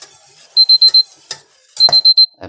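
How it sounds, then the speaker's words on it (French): A kitchen timer going off in a home kitchen, two loud bursts of four rapid electronic beeps each, with small clatters of cooking sounds between them. "le minuteur a fini de minuter"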